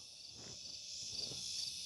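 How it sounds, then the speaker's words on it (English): Crickets chirping outdoors, a faint steady high-pitched trill running throughout, with quiet low background rumble beneath. "I actually do hear crickets."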